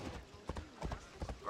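Horse hooves gallop in Assassin's Creed Odyssey, a quick rhythmic clip-clop of repeated thuds over a steady game backdrop, with faint voice-like sound mixed in.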